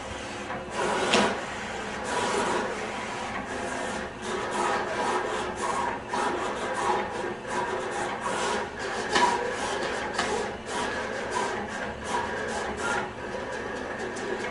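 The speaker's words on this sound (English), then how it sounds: "Right now I'm just cutting one image to demonstrate for you." A vinyl cutter slices Spectra Metallic Royal Blue vinyl for a shirt design, giving an uneven run of whirring, scraping and rasping movements that rise and fall in short bursts.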